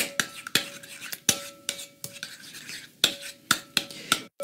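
A cauliflower and potato casserole mixture being stirred in a bowl, with sharp utensil clicks and scrapes at an irregular pace, close and fairly quiet, with no talk.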